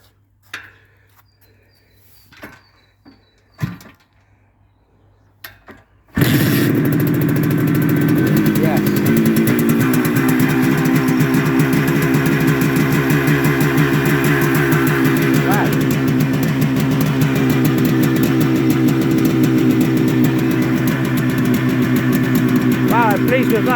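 A Benelli 250 2C two-stroke motorcycle engine catches after a few faint clicks and cranking sounds, then runs steadily at a close, loud, buzzing idle for the rest of the clip.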